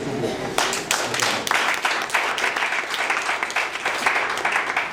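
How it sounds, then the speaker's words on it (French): A church congregation applauding during a Sunday worship service, sustained crowd clapping with dense overlapping claps at close range, with some voices mixed in. "acclamez"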